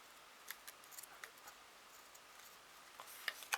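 Small scissors snip through paper in quiet, faint, scattered clicks and short cuts, a few crisper snips near the end.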